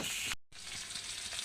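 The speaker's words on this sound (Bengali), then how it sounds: "ফোড়নে কালো জিরে দিলাম।" Nigella seeds and slit green chilli sizzle in hot oil, along with a bay leaf, for a tempering: a steady, close frying hiss with a brief break near the start, with no talk.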